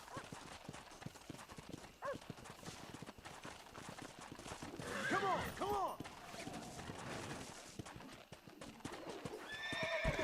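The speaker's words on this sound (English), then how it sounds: "Let's ride this horse and get him." Horse in the Red Dead Redemption (2010) game, neighing loudly mid-clip with steady clip-clop hoofbeats throughout, under someone talking to urge it on.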